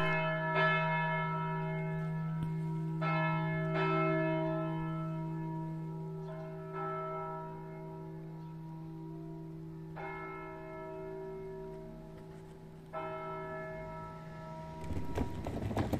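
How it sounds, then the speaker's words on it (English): Church bells ring at a Romanesque church in Gravedona, long sustained tolls with repeated strikes every few seconds over a steady humming drone, fairly distant and moderate in level. "I leave you with the sound of the bells and the suggestion of the place."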